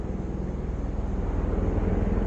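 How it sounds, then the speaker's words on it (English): A helicopter flies overhead at an outdoor shooting range. It comes through as a steady low droning rumble with a fast, faint pulsing beat, heard alone and without talk. "The helicopter flying."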